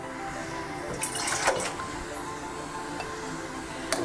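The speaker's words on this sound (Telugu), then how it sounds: "ఇప్పుడు మనం వాటర్ పోసుకుందాం." Hot water flows into a pot of rice for Bhimavaram-style prawn pulao, a continuous close pouring rush with a few sharp splashes and clinks of the vessel along the way.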